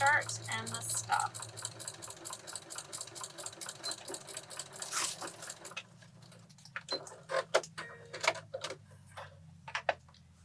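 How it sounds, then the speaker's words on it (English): Sewing machine stitching straight lines across placemat fabric, backstitching at start and stop; steady rapid ticking for about five seconds, then a pause with scattered clicks and short bursts, close and moderately loud. "we're going to take them over to the machine and sew right on that line"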